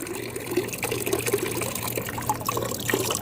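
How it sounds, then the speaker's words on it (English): Water trickles and dribbles steadily out of an overfull hanging flower basket, a soft continuous draining sound close by with no talking. "This thing's full of water. Just gonna let some of that drain."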